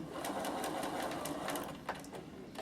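A sewing machine with a piping foot stitches a fabric bag handle forward and then in reverse, giving a fast, close, rhythmic mechanical whirr with a brief pause partway through.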